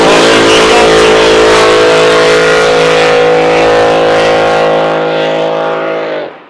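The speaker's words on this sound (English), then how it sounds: "Boat engine sounds strong." A racing boat's engine at the 2024 Windsor Spectacular holds a loud, sustained, steady-pitched roar at speed, then fades away at the very end.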